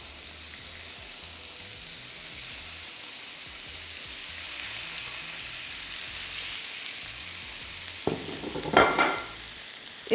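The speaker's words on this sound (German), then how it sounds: "Jetzt werden wir die kurz in der Pfanne anbraten." Minced-meat balls sizzle in a frying pan with a soft, steady crackle and hiss. A few louder scrapes and clinks of stirring come near the end.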